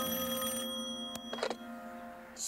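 A telephone bell rings alone in a quiet room, one steady sustained ring with a couple of brief clicks and rattles near the end.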